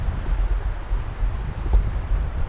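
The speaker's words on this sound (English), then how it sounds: "and this wind kind of dies down" Steady outdoor wind rushes through woodland, a continuous low broadband roar with buffeting against the microphone, moderately loud throughout and without speech.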